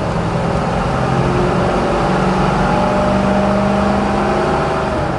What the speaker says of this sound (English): we'll shift up through the gears first, to second,